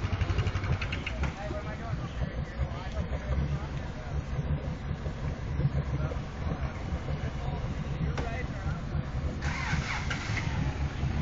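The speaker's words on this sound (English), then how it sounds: "Super Yoda 94 with his new motor." An off-road vehicle with a newly replaced motor runs loudly and continuously, a steady mid-pitched engine rumble with revving surges, close by, with voices faintly underneath.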